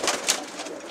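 Pigeons in a loft inside a truckers' garage give a brief, close, soft coo with a faint rustle behind it.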